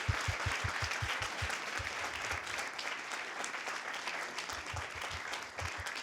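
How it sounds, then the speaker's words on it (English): A crowd applauds steadily throughout at a high school debate championship, with dense, even clapping that holds for about six seconds and dips slightly before swelling again, heard at a moderate distance. "could we get another round of applause for Ella Jewell and Jeremy Battle?"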